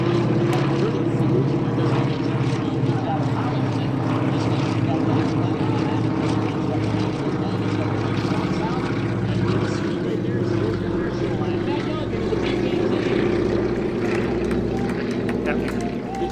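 A large aerobatic propeller airplane with two Pratt & Whitney 985 supercharged radial engines roars past at an airshow, a steady, throbbing drone that stays loud throughout, while someone talks over it.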